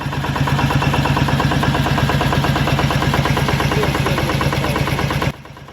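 A Deutz diesel locomotive engine idles with a loud, steady rhythmic chugging and mechanical clatter, heard close up and unbroken until the level drops sharply near the end.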